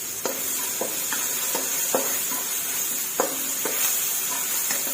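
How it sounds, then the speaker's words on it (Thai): Mushrooms stir-fried with soy sauce in a pan make a steady sizzle, broken every second or so by sharp scrapes and clanks of a spatula against the metal, close and clear with no talking. "ผัดเห็ดใส่กับ ซีอิ๊ว"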